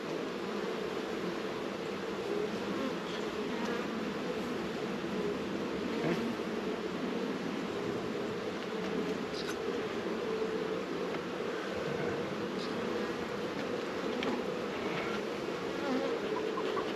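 Honeybees hum in a steady, dense drone around an open hive during inspection, with occasional louder individual bees passing close to the microphone.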